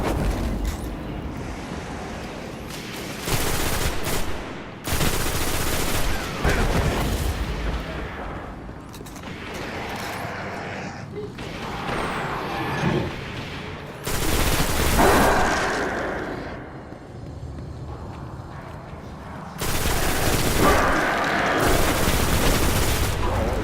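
Gunfire from a hard-to-control gun in the Destiny video game, loud repeated bursts of rapid shots with booming blasts, broken by short quieter gaps.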